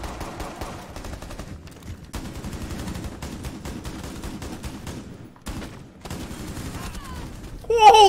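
Gunfire in the video game Rainbow Six Siege, with sustained rapid bursts of shots broken by brief pauses, loud and close, and voices in the mix near the end.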